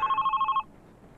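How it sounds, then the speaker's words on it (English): In the horror video game Love Sam, a telephone rings with a fast electronic trill of about eight quick pulses, clear and close, then cuts off into near silence. "Oh, but the phone rings there!"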